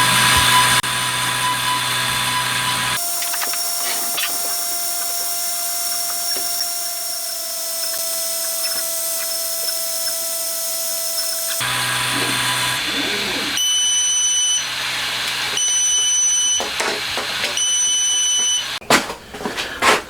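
A laser engraver burning an engine image into a cork board, giving a steady electronic whine with faint fan hum and intermittent higher beeping tones, continuous and fairly close, without voices.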